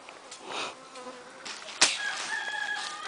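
Bees buzzing around a new hive site on a farm, a continuous insect drone with passing buzzes near the microphone and a sharp knock partway through, chickens faintly audible in the background.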